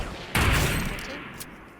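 A single loud gunshot blast rings out in a shooter video game, followed by a short decaying tail and a faint second crack.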